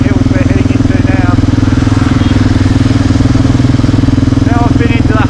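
A Kawasaki KLR 650 motorcycle rides on Nepal's mountain roads in the Himalayan foothills. Its single-cylinder engine makes a loud, steady, throbbing drone close up, with someone talking over it throughout.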